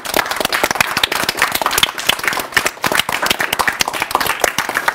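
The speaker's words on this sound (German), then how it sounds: "dass das Team von euch mal einen riesengroßen Applaus verdient hat." Lively applause for a team from class 5a at ecolea Güstrow, many hands clapping close by in a brisk, uneven patter that swells and dips but holds throughout, with no talking over it.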